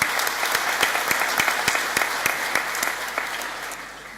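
Graduation ceremony guests at a college clap in sustained, dense applause with crisp individual claps standing out, tapering off slightly toward the end.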